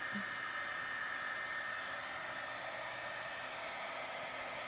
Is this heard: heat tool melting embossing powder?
yes